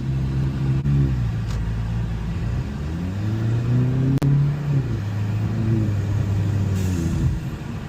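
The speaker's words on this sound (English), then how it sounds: "Every vehicle I do gets test driven." A car on a test drive after repair, its engine droning loud and close with rising and falling pitch as it accelerates and shifts, plus a steady road rumble and no talking.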